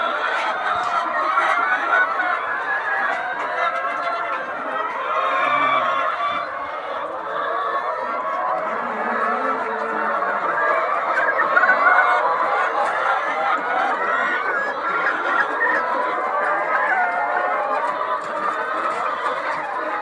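Many chickens on a poultry farm of about six thousand birds, a dense continuous chorus of clucking and squawking that fills the space steadily, with workers present during vaccination.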